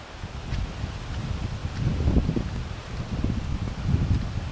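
Gusty wind blows outdoors on a dark, windy evening, a low rushing roar that swells and fades in uneven waves across the whole stretch, with no talking.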